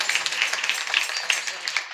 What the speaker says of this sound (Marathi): वाजवा टाळ्या एकदा आईसाठी.